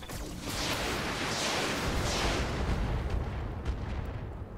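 Volley of SRM-6 missiles firing in the video game Roguepoint, a dense continuous roar of launches and blasts layered into a loud rumbling barrage for several seconds.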